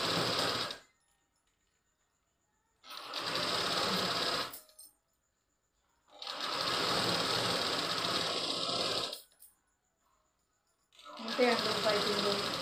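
A sewing machine stitches thread piping onto fabric in three bursts of fast mechanical whirring separated by silences, running close and loud, with a brief spoken phrase near the end.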